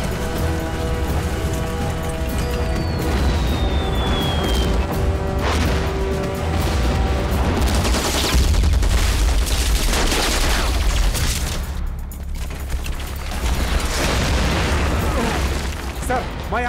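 Battle-scene gunfire from an action film, dense sustained bursts and booms layered with music and shouting voices, loud and continuous throughout.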